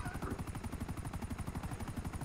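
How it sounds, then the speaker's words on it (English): Helicopter in the video game GTA V, a steady rapid rotor thump with pulsing chop throughout, loud and close, with no talk over it. "Yeah, we're in a helicopter."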